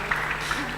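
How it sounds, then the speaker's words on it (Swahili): Audience applause at a national science, technology and innovation conference, a short steady patter of clapping from a seated crowd, moderately loud and filling the room briefly. "Tumpigie pia makofi kijana."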